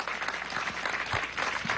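Continuous crowd applause at a congress gathering on religions and faiths, a moderate, even wash of many hands clapping without a break.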